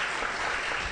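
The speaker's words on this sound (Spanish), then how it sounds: "les vamos a dar la bienvenida a cada uno de ellos con un fuerte aplauso" A brief, dense burst of audience applause at a social-movements panel, many hands clapping together in a steady wash to welcome the guests.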